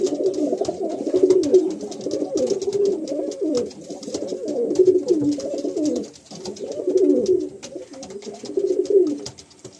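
A breeding pair of tournament pigeons cooing close by, loud repeated throaty coos in steady rolling phrases with short pauses between them, with no talking.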